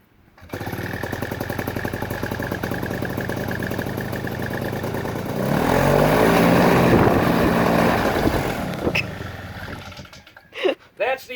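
An outboard boat motor catches and runs after its propeller is turned by hand, a loud steady engine drone that swells into a revving surge mid-way and then dies off, followed by brief clunks.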